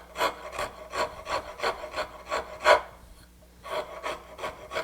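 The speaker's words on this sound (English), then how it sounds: "you could just quickly rasp that with a Nicholson rasp" A Nicholson rasp is drawn in quick, even strokes across the edge of a wooden serving tray, about a dozen rough scraping passes close up with a short pause partway through and no voices.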